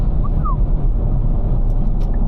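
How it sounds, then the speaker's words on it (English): A Kia Stinger running an E30 ECU tune drives slowly through a quiet downtown with the windows down. A deep, steady engine and induction rumble dominates at close range, with faint higher tones drifting over it. "Just listen to that induction noise."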